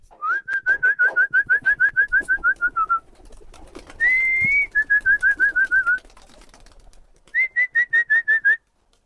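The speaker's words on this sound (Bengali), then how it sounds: "এখন কবুতরগুলোকে আমি ছেড়ে দিই ফাইনালি" Newly acquired pigeons released from a farm into open sky, giving bright, repeated whistle-like calls in three rhythmic bursts, fairly close and clear, with no one talking.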